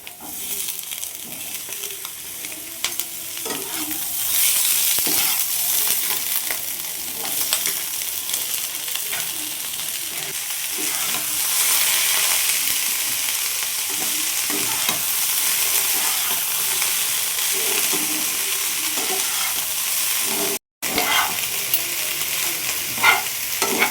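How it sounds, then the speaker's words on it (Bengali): Sweet corn kernels for corn chaat frying in a pan with a continuous bright sizzle and hiss, stirred now and then with soft scraping, close and steady throughout with a brief dropout near the end. "এরপরে আমি এখন দিয়ে দিচ্ছি হচ্ছে এই যে কর্নগুলো।"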